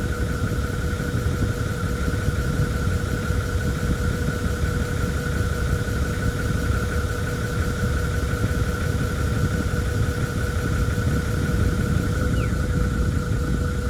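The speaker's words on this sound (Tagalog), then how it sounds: "Compressor on." A Toyota Land Cruiser 80 series engine runs steadily with the air-conditioning compressor engaged, a constant low idle drone with a faint tonal whine held throughout and no talking.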